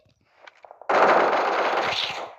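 Gunfire in the video game PUBG Mobile, a few faint distant pops followed by a sudden loud burst of rapid shots that echoes for over a second.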